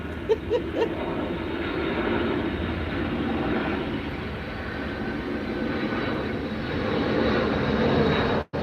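A fixed-wing airplane drones steadily overhead, its engine a continuous broad rumble that holds at a moderate level for most of the stretch before cutting off abruptly at the end, with no talk over it.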